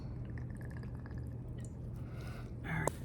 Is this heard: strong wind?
no